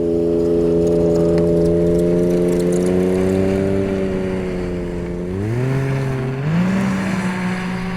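A Ski-Doo 850 Mach Z snowmobile engine racing, a loud close buzzing whine that holds steady, then dips and climbs sharply in pitch as the throttle changes.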